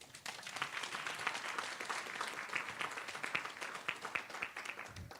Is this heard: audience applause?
yes